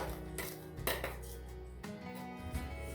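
A flattened rice laddu mixture is tipped into a metal vessel, with a few quiet clinks and scrapes of utensil against the pot.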